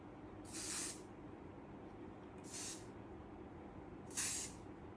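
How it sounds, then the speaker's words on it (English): A can of hairspray gives three short bursts onto hair, each crisp hiss about half a second long and spaced roughly two seconds apart, close and clear over a faint background. "use a toothbrush and your hairspray. Spray it all over like this to finish up any of the baby hair."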